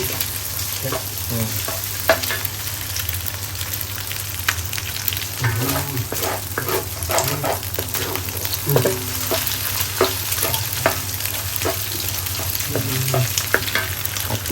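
Egg stir-fries in a hot pan, a loud, constant sizzle broken by frequent scrapes and clanks of a utensil stirring against the metal, with no talk over it.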